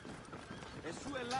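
Horse hooves clip-clop in Assassin's Creed Origins, a steady trotting rhythm mixed under game ambience and overlapping speech.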